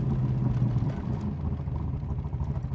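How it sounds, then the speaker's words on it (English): A 1965 Shelby Cobra Backdraft sports car engine rumbles low and throaty while driving, with a slight rise and fall in revs under light throttle, fairly close. "I have just got such a light touch on the accelerator."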